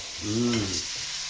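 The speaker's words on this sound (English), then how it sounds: "Yeah, that sizzle." Crickets sizzle softly in a frying pan while being stirred, with a brief low tonal hum rising and fading partway through.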